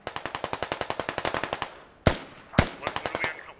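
Automatic gunfire in a video game military campaign, a fast steady burst of rapid shots followed by two sharp louder blasts, then more bursts, loud and close with no talk.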